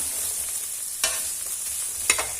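Ingredients, including garlic for a Thai roasted chili paste, dry-roasting in a pan, with two distinct scraping stirs of a utensil over a faint steady background hiss.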